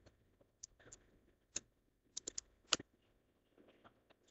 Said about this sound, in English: Now here, I'll also type driver.